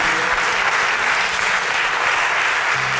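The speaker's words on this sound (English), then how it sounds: "let's give the Lord a hand clap of praise for that word on today" A congregation claps in praise during a church worship service, a dense, loud, continuous burst of applause filling the space from start to finish, with a voice faintly underneath near the end.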